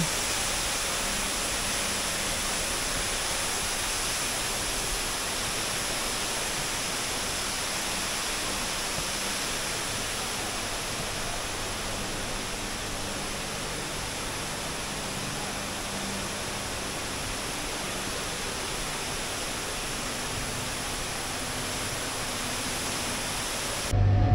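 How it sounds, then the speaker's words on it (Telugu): Steady, dense rush of falling water from the indoor waterfall at Gardens by the Bay, Singapore, filling the space evenly and loudly without a break, with no voices over it. "చూడండి ఈ వాటర్ ఫాల్ వ్యూ ఎంత బాగుంది ఇక్కడ నుండి చూస్తే"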